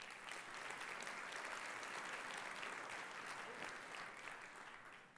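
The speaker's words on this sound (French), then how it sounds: "on peut l'applaudir" Audience applause for a guest at a quiz event on vocational training, a fairly faint, dense wash of clapping sustained for several seconds before easing off slightly at the end.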